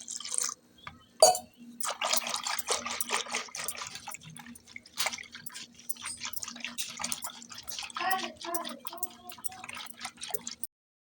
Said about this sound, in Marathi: दही आणि डाळीचं पीठ मस्त पाणी टाकून थोडंसं रवीने हलवून घेतले